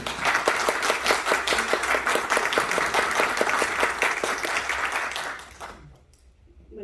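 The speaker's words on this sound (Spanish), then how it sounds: "pido un aplauso por su presencia y la de los invitados" An audience at a Peruvian congressional book-publishing event applauds in dense, steady clapping that carries on for several seconds before quickly dying away into near silence.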